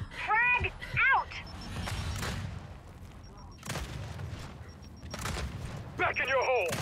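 Frag grenade blasts and gunfire from the video game Gears 5: loud booms and bursts of shots come in clusters, mixed with game voice callouts and electronic effects.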